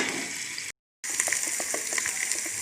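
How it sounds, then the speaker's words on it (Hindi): Ginger garlic paste frying in ghee in a pot gives a bright, steady sizzle with scattered small pops, briefly cut to silence, then resuming just as lively and close. "दूसरी तरफ हमने ये देचकी में घी डाल लिया और अब हम इसमें ये अदरक लहसुन का पेस्ट डाल लेंगे। इसको अच्छी तरह पहले भून लें"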